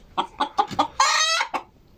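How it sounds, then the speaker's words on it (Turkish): A Brahma rooster clucks in a quick series of short, close bursts, then lets out a longer, strained crowing call before one last cluck. "Şu bizim kıskanç horozumuz."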